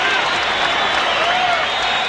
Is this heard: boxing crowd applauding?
yes